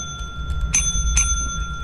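The ship bell in the Lethal Company video game rings twice in quick succession, each bright metallic strike leaving a lingering tone over a low background hum.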